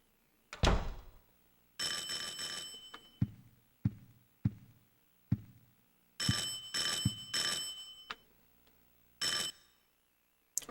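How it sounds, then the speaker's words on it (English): Doorbell ringing in the video game Silent Hill 4: The Room, a series of loud electronic chimes in repeated bursts separated by short gaps and sharp knocks, heard alone. "Who's ringing on our doorbell?"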